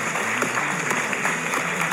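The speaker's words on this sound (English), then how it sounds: "That's me clapping you for inviting me here." One person claps alone at the front of a speech event at a community college, a quick, steady run of close, sharp claps with no crowd joining in.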